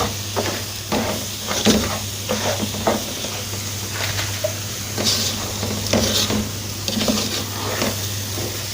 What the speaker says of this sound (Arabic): ونضيف بقى الاضافات بتاعتنا اللي احنا الجزر والفلفل. نقلب بقى كويس